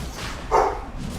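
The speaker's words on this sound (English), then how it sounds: "my dog's being a bit naughty apparently" A dog gives a single short bark, clear and fairly close, rising briefly above a low room background with no other sounds.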